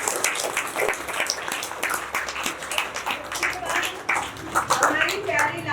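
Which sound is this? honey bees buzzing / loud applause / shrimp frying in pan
loud applause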